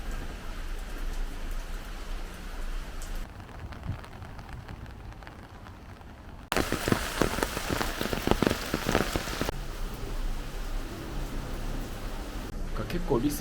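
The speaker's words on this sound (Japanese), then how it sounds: "なんか雨の降ってる感じがジャングルみたいで、それなりの特別な雰囲気はあります。" Steady rain falls in Lisbon during the rainy season, a dense patter of drops on surfaces that grows noticeably heavier partway through before easing, with a continuous hiss throughout and no talk.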